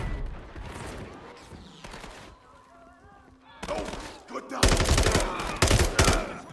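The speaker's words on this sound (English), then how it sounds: "Unload a whole clip on this man." Rapid gunfire from a Call of Duty: Modern Warfare III firefight, loud bursts of automatic shots that swell near the end after a quieter stretch, with some voices mixed in.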